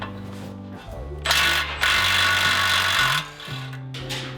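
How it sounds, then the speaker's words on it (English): Ratchet with a 21mm socket spins the tie rod nut off a 2015-or-later Ford F150 during a leveling kit install: a steady, close mechanical whirring with a louder, brighter stretch in the middle, then tapering off. "Then take a 21mm socket and remove the nut securing the tie rod."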